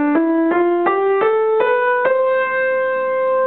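Piano notes rise step by step through a major scale, six evenly spaced struck notes climbing in pitch, the top note left ringing and slowly fading, clear and close with no talking.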